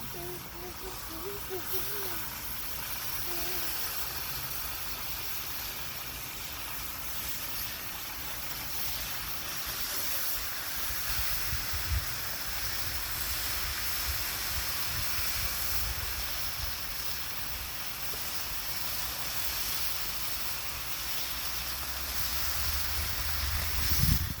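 Bacon sizzling on a Blackstone griddle running about 450 degrees, a steady broadband hiss that holds evenly throughout with faint kitchen noise beneath and no talking.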